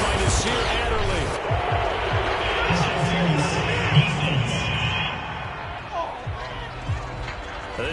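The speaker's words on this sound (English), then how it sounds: "This home crowd, they're happy with that call." A home stadium crowd roars and cheers in a Madden 22 NFL football game after an interception call, a dense continuous wall of noise with commentators talking over it throughout.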